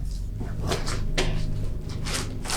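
A thick, heavy iron door in an abandoned château creaks and scrapes open, a rough grinding sound with a few louder bursts, close and fairly loud.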